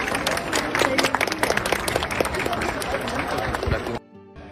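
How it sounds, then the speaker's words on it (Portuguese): Mourners applaud at a Brazilian funeral for a dancer at Parque das Flores cemetery, a crowd clapping unevenly with sharp nearby claps and murmured voices mixed in, stopping abruptly near the end. "agora aplausos"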